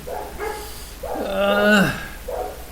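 A dog gives a short whining, yelping bark in the middle, with brief speech-like sounds around it. The sound is fairly close and clear.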